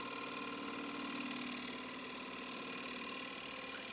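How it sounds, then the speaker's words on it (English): A freshly sharpened gouge cuts a wooden bowl being roughed out on a wood lathe, giving a steady, unbroken hissing whir that holds at an even level throughout, with no talking. "Making another cut here with a freshly sharpened gouge."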